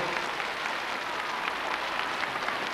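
An audience applauds for a singer after his song, a dense, even wash of clapping hands held steady throughout, moderately loud and without speech.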